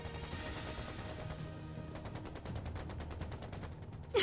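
Rapid gunfire in a battle at a temple in Trails into Reverie, dense bursts of shots that sharpen into a quick repeating volley toward the end, at moderate loudness with no talk.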